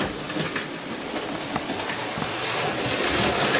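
A Hornby 28XX model steam locomotive runs steadily, giving a continuous whirring, hissing hum with light rhythmic clicking of the wheels and gear. It is close and moderately loud, and no one speaks.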